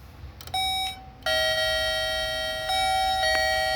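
An electronic intercom doorbell chime rings with steady, bright tones, briefly cutting out before sounding again continuously and loudly nearby.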